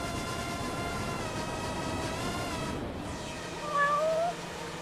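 A cat meows in the video game Judgment, a couple of short rising calls near the end over a steady bed of game ambience and music.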